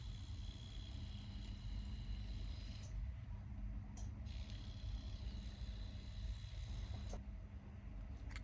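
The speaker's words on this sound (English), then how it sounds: "Then power on to detect if the motor is working properly." The small motor of a 3D-printed tattoo pen (Inkclaw Passion) runs continuously after power on, a steady, dense whirring buzz that holds level throughout, close up, with a few faint clicks.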